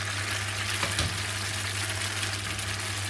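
Broccoli rabe and garlic sauté in a pan with a steady, dense sizzle and crackle that is loud and close and holds without a break, and no one speaks.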